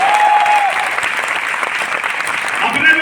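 A seminar audience at a Vestige business talk breaks into sustained applause, dense steady clapping filling the room for the whole stretch with a faint voice underneath near the end.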